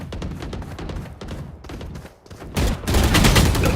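Rapid bursts of gunfire in PUBG Mobile, loud and close, with dense automatic shots that build into a heavier barrage near the end.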